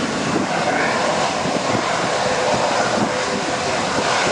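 A fixed-wing aircraft landing at London Stansted Airport gives a loud, steady broadband engine roar that holds through the whole stretch with no talk over it.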